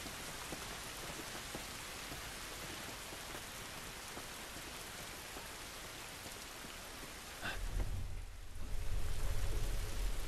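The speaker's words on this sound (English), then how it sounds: "This rain ain't gonna do us any good." Steady rain falling in the video game The Last of Us Part 1, a dense even hiss of drops on surfaces. It turns louder and lower, with a heavier rumbling wash, for the last few seconds.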